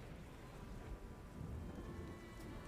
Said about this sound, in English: there is a torrent of raindrops that begin dropping on all of you.